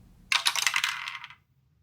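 Dice rattling and tumbling on a hard surface, a quick burst of bright clicking clatters lasting about a second, close and alone.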